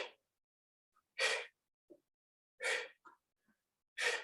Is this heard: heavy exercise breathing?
yes